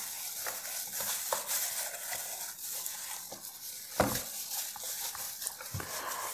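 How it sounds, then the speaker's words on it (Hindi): Oil being mixed into spice-marinated chicken for Kashmiri chargha, a soft, wet stirring and squelching with a few sharper clinks of utensil against bowl, fairly quiet and close, with no talking. "अब इसमें ऑयल डालेंगे, अच्छे से मिक्स कर लेंगे।"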